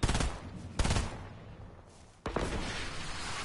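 A hand cannon fires in a shooter video game, giving loud booming blasts with a sustained rumble between them, and a final heavy shot near the end.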